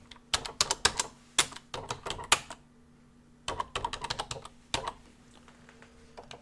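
Computer keyboard typing, close and clear, in quick irregular bursts of clicking keystrokes separated by short pauses, with a faint steady hum underneath.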